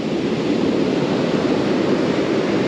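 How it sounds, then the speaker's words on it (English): Rough, choppy ocean waves at a shoreline Dungeness crab spot in November, churning in a steady, loud roar of surf with no distinct breaks, close by and unaccompanied by voices. "Right now the waves are pretty hectic right now."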